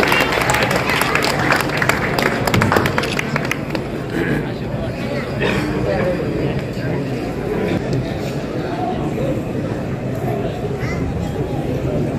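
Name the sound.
audience applauding at a birthday celebration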